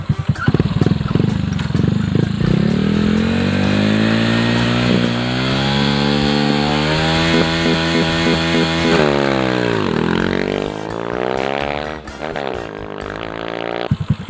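A Honda Dream motorcycle engine revs loudly while riding, its pitch climbing and dropping through repeated gear changes, close and continuous throughout.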